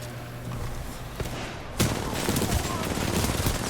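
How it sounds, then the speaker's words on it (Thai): A rapid-firing gun in the shooter Titanfall 2, a dense, loud stream of shots that swells suddenly partway through and keeps going, with a little talk mixed in. "ปืนโคตรรัว"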